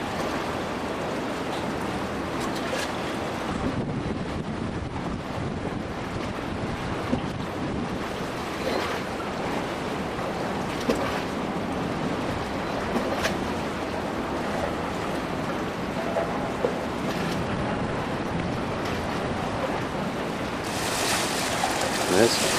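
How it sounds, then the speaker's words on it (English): A river cruise boat travels up the Thames from Tower Bridge in London, a steady broadband rush of wind and water with engine rumble underneath, continuous and fairly loud throughout with occasional small knocks. "We're going to take a cruise up the river here."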